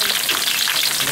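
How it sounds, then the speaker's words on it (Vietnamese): Whole elephant ear fish deep-fries until crispy in hot oil, giving a loud, dense, close sizzle that crackles continuously without pause. "chút sẽ có một pha cá chiên giòn"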